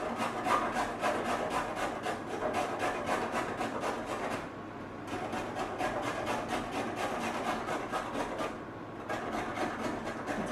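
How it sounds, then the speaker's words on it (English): A vegetable is rubbed up and down on a hand grater in a rhythmic scraping, with the strokes close and fairly loud and two short pauses between runs. "I'm going to grate it."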